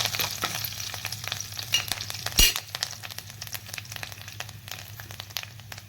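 Curry leaves and mustard seeds splutter in hot oil in a pan, a dense, close, steady crackling sizzle with scattered pops and one sharp loud burst partway through.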